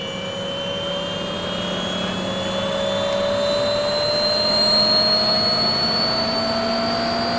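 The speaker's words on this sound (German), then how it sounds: "beide Modelle sind angetrieben von einem Contronic-Turbo 850 und fliegen mit 12 S-Akkus" A model helicopter turbine, a Contronic Turbo 850 in a twin-rotor Chinook CH-113 Labrador scale model on 12S batteries, whines steadily and loudly with a rising high tone and rotor hum, alone without talk.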